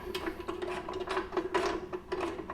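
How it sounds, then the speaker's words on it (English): Socket wrench turning a skid plate bolt on a Yamaha XT 1200 Super Tenere motorcycle, giving rapid repeated mechanical clicks and ratcheting over a steady low hum, close and moderately loud. "I can't really go any further now, so I'm gonna use the socket"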